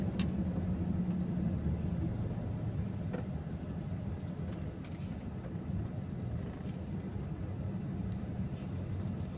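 Road traffic on a drive heading from Batangas to Taguig, heard as a continuous low rumble of engines and tyres from inside a moving vehicle, steady and moderately loud with no talking.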